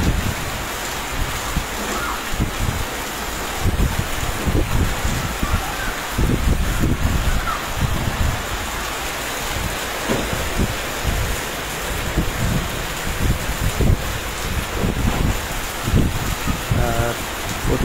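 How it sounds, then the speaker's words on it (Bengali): Heavy rain lashing Cox's Bazar with strong wind, a dense roaring wash of rain and gusty wind buffeting the microphone, loud and continuous, with a person talking underneath. "আজকে বৃষ্টির সাথে দেখতেছি প্রচণ্ড বাতাস"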